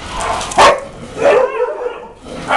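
Dogs at a shelter bark, yelp and whimper in a short, loud scuffle between kennel mates, with sharp bursts close by and no talking.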